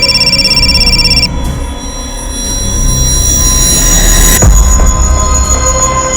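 A telephone rings as a repeating electronic trill for about the first second, loud over heavy train rumble and wheel squeal that then carries on alone.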